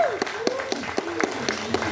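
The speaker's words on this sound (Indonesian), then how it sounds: "Boleh lebih kencang lagi tepuk tangannya." Clapping at an Indonesian film censorship awards press conference falls into a steady, rhythmic beat of about four claps per second, with a voice or tone carrying over it.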